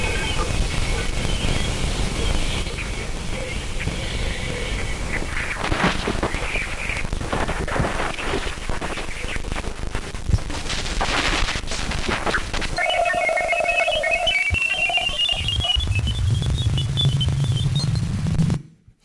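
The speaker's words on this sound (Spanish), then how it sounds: "la interacción entre Júpiter y Ganímedes suena así" Radio emission from the interaction of Jupiter and its moon Ganymede, converted to sound: dense hissing static with warbling tones and bursts, then rising chirps and a low buzz near the end, without talk.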